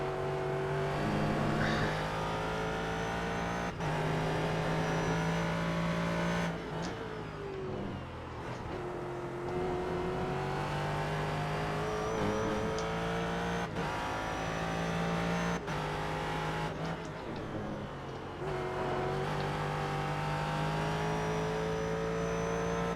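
A GT race car engine in the iRacing simulator drones and revs continuously, rising through gears and dropping sharply at shifts and braking, loud and steady with occasional tire noise.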